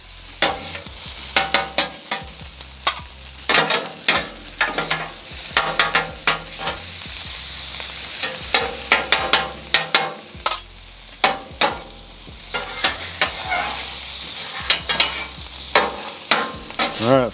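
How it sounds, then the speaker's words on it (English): Fresh garlic frying on a rocking-hot griddle for barbecue fried rice, a steady loud sizzle broken by repeated sharp scrapes and clacks of a spatula stirring and keeping it moving throughout. "We're going to go down some garlic, fresh garlic right there."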